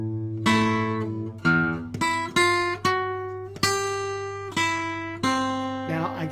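Acoustic guitar playing the third and fourth measures of a lesson passage, a series of distinct plucked notes and chords, about nine attacks each ringing out before the next, close and clear with no talking.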